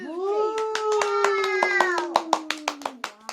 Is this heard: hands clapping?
yes